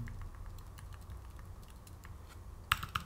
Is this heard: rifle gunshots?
no